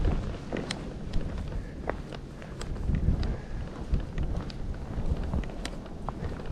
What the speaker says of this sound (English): Picking up the wind again as we get less tree coverage, unfortunately.